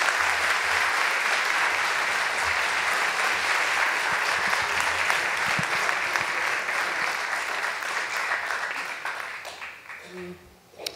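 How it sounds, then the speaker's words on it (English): Sustained audience applause at a symposium fills the room for about nine seconds, then fades out as a speaker begins talking. "Applause."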